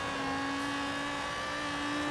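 A tuned car in Forza Horizon 3 at a night car meet holds a steady, loud engine note with a sustained drone and no talking.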